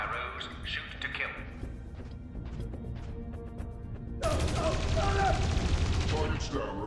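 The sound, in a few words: gunfire from video game Dreamfall Chapters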